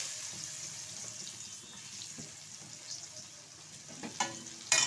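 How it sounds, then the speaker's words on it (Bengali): Chopped onions frying in oil with bay leaf, nigella seeds and turmeric, a quiet steady sizzle with occasional stirring clicks and a louder clatter at the end. "পেঁয়াজটা একটু ভেজে নেব।"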